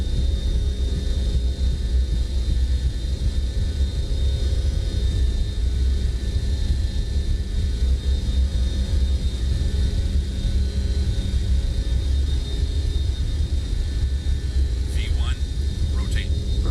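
Airliner jet engines at takeoff thrust in Microsoft Flight Simulator give a constant, heavy roar that stays level throughout, with a voice talking over it.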